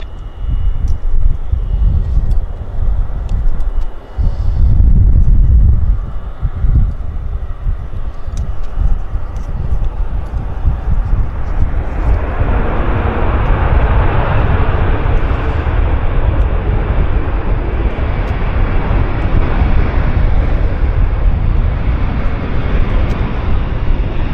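A jet airliner lands on runway 26 Right at Vancouver Airport. A loud, rising roar and rumble builds into a broad, sustained engine wash as it nears and passes, with no talking.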